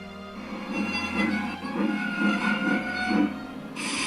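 A train rumbling at a station, a steady low mechanical drone with faint wheel clatter and a brighter hiss rising at the end.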